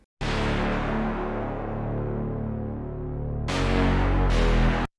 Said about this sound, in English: And then we have this brass bass that we've layered up.